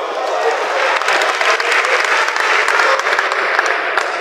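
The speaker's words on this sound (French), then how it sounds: "s'il vous plaît, applaudissez au moins pour mon habillement" A comedy show audience applauds steadily at a live stand-up stage performance, a dense, even wash of clapping from a large crowd lasting throughout, loud and close with no talking over it.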